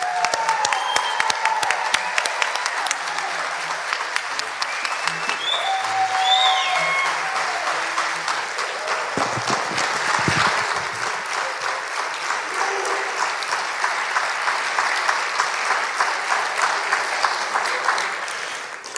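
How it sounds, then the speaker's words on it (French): An audience at a college graduation ceremony in Timmins applauds its graduates, with sustained, dense clapping and some cheering filling the room steadily for the whole stretch. "Ensemble, applaudissons chaleureusement tous nos diplômés."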